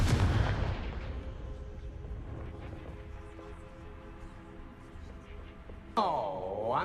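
The Confringo blasting spell in the video game Hogwarts Legacy, a loud booming explosion that rumbles and fades, followed by a second sharp magical whoosh and blast.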